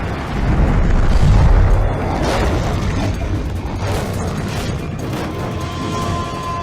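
A bridge target is blown up in a big-screen action sequence: a heavy, rumbling blast surges up, followed by a long crackling roar of debris and creaking, grinding wreckage that slowly fades.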